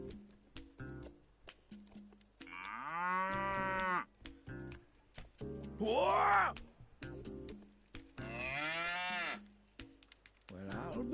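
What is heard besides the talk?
Bororo cattle mooing in SandLand video game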